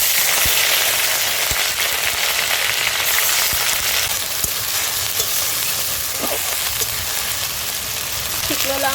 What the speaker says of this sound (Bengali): ফোড়নটা ভাজা ভাজা হয়ে গেছে, আদা রসুন আর পেঁয়াজ বাটাটা দিয়ে দেব